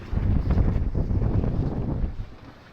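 Strong wind buffeting a sailboat under sail near Plymouth, blowing around 11 knots with the boat making about 4 knots, a steady loud rushing roar that eases toward the end.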